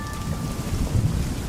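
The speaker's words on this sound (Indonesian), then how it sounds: "Hujan pun mengguyur dengan derasnya" Heavy rain pours down with deep rumbling thunder rolling underneath, a continuous wash of noise with low swells building and fading, and no talking.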